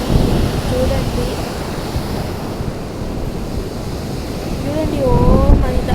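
Sea waves wash over sand on a beach where a sand structure is being built, a continuous close surf rush with wind buffeting the microphone, brief faint tonal squeals near the end.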